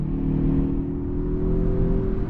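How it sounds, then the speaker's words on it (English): A 2026 Mazda CX-30 Turbo Aire Edition accelerating, heard from inside the cabin as a steady, moderately loud engine drone with a faint turbo whir rising from under the hood, held through the gears without a break. "some turbo noise is coming out of the hood"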